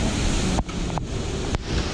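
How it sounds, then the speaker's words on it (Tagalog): Strong typhoon wind from Typhoon Ulysses in Bicol roaring and buffeting the microphone in a constant broadband rush, with a couple of brief dips and gusts. "Ang lakas ng hangin."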